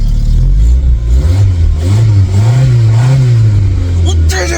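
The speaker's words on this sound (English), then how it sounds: "Let's give it some revs" An abandoned Volkswagen Vento's engine revs up and down in rising and falling waves after being revived, loud and close, with excited voices shouting over it.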